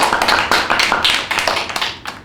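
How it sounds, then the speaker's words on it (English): A classroom of students claps in a brief round of applause after a poetry reading, dense overlapping hand claps that start strongly and fade out over about two seconds, with no talking. "Come on, class, let's have one more round of applause for that fantastic piece of poetry."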